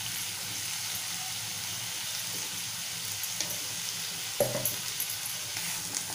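Sliced potatoes sizzle in a pan for a brinjal and potato curry, a steady, fairly quiet frying hiss throughout with a few small clatters near the end.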